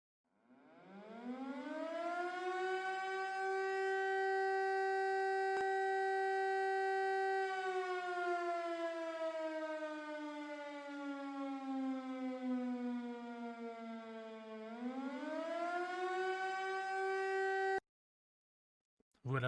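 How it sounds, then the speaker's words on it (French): A French civil defense general alert siren winds up to a loud, steady wail, then slowly sags and rises again before cutting off abruptly, heard alone without any talking. "Alors cette sirène d'alerte générale, tu la connais bien sûr."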